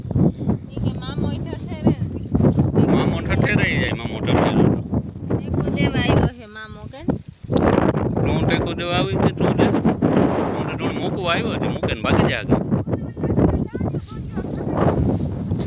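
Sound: wind blowing

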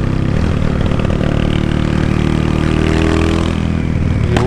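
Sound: Honda Today motorcycle engine revving

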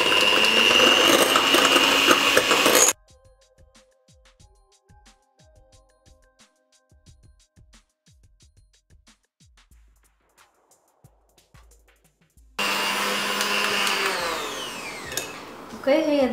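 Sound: electric mixer whipping egg whites with sugar

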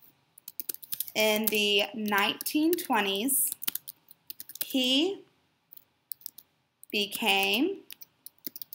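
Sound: typing on a computer keyboard

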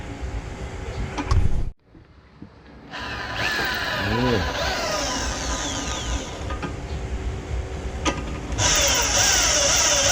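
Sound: ordinary electric drill drilling a hole

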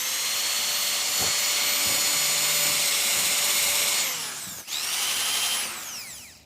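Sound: power drill drilling into a table top

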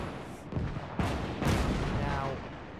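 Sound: gunfire and artillery in a North Africa tank battle video game

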